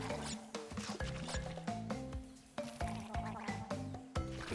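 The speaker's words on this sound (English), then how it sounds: "The noises they make when they jump out of the water. Sounds like they're gargling." Creatures in Crash Bandicoot leaping out of water with gargling noises, a rhythmic sequence of bubbly squishy bursts over a bouncy tonal game music loop.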